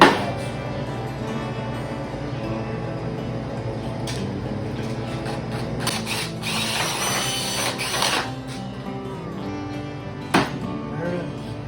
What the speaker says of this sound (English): Hand drilling and metal is not drilling too fast.